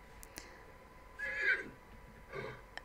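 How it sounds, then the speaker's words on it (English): A wild horse in the video game The Sims 3 lets out one short, fairly close whinny, with a few soft game clicks and a second quieter snort after it. "That was a wild horse."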